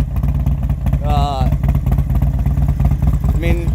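A 2001 CVO Road Glide motorcycle engine runs steadily nearby with a loud, pulsing low rumble, while a person talks over it.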